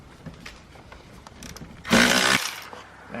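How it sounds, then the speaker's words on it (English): A power tool working a seat rail bolt in a BMW E46 during a race seat install, a single loud half-second burst of whirring after quieter clicks and handling sounds. "I'm gonna take this bolt off."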